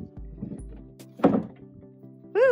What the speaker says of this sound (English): I can't get the door open